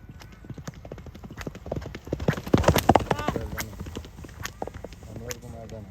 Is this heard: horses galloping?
yes